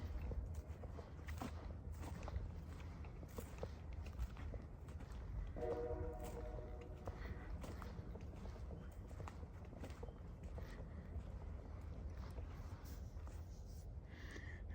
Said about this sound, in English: And there's our train whistle.